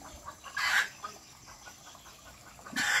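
A wild red junglefowl rooster guarding eggs in the forest gives short clucking calls amid a faint outdoor ambience, at a moderate distance and with no voices.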